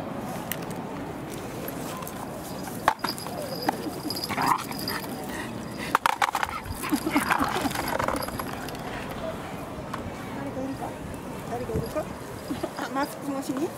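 A Shiba and a corgi meet: dog whimpers, snuffles and scrabbling paws sit under steady human chatter, with a couple of sharp knocks.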